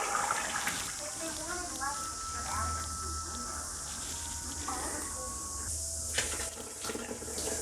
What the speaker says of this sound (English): The pot is now light enough for me to safely tip the remainder directly into the bucket.